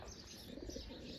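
Pigeons cooing softly near their chicks in a nest, low murmuring coos with faint chirps and a light flutter of wings, steady and fairly quiet.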